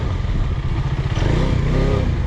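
Motorcycle racing through an amateur time attack at the MangoMoto track, its engine roaring loud and close throughout, pitch wavering as the rider shifts down a gear.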